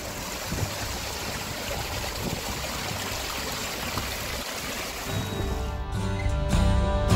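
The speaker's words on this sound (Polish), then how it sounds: "Posłuchajcie przez chwilę ze mną szumu strumienia." Steady rushing and babbling water of a mountain stream in Wildboar Clough gorge, Poland, fills the clip, constant and close, with a slightly louder swell near the end.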